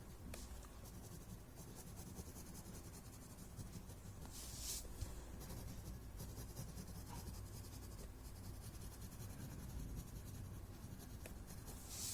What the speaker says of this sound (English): Adding graphite on both sides.